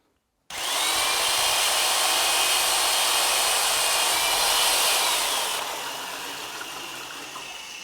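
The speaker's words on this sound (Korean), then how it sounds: "드릴로 저어서 그 농도를 유효적절하게 잘 맞추셔야 두껍지도 안 하고 얇지도 안 하고" An electric drill starts abruptly and whirs at a steady pitch as it stirs a ceramic glaze slurry of stone powder and water. The drill runs continuously and close, then eases slightly lower and quieter toward the end.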